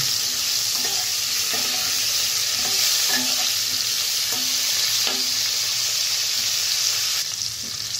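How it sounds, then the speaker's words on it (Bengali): Steady, loud sizzling of cauliflower frying in oil fills the whole clip, with occasional soft clicks and scrapes of a spatula; no voices. "ভালোভাবে ভেজে নেব"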